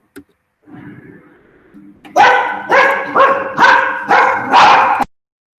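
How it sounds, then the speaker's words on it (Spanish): Dogs bark in a quick run of five or six loud, close barks, after a softer whimpering lead-in. "Perdón la interrupción, perros que ladran."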